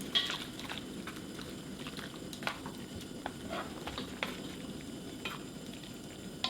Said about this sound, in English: In a pot of boiling water, over high heat, blanch the noodles for about 2 minutes.